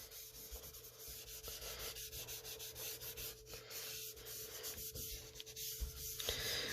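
Close, soft scratchy rubbing of a 2B graphite pencil shading and blending on paper, in repeated short strokes of uneven rhythm, with no talking.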